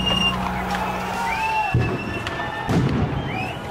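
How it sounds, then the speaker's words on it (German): Police sniper gunshots echo over Maidan square in Kyiv during protests: two sharp, booming reports about a second apart, each with a reverberating tail over a background murmur of crowd and street noise. "Ihre Schüsse hallen über den Platz."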